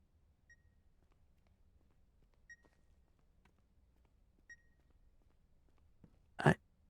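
A bomb in The Beast Inside gives a faint, thin beep every two seconds, three in all, over near-silence, then a sudden loud burst of noise at the end.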